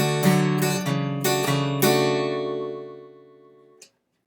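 An acoustic guitar blues ending, with the low bass note hit hard several times together with the strings above it, then a chord left ringing out to fade, close and alone, ending on a small click.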